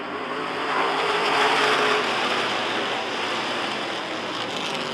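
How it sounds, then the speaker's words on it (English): Race cars at a Rockford Speedway bracket feature pick up speed after the green flag, making a continuous, loud, broad engine roar that swells slightly and then holds steady, with no talk over it. "Green flag, and we're racing."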